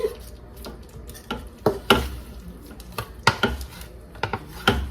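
Colossal peeled, deveined tail-on shrimp are stirred into a curry in a pan, making close, sharp utensil scrapes and clinks in a quick irregular rhythm over a low sizzle, with no voices.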